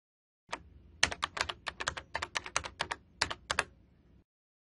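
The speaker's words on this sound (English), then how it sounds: "then we will type in the name of the drug" A drug name is typed on a computer keyboard: a short burst of about twenty crisp, close key clicks in an uneven rhythm, alone in a quiet room.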